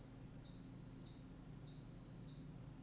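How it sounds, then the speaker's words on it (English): Two long, steady high-pitched electronic beeps from an electric pressure cooker (Instant Pot), about a second each and spaced apart, sound over a low background hum. "that's my Instapot beeping"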